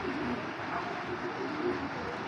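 A large Giribaz pigeon with blue eyes coos softly and continuously at close range, a low, rolling murmur that lasts through the whole short stretch.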